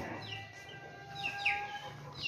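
Chicks give faint, scattered chirps and soft clucks over a low background murmur.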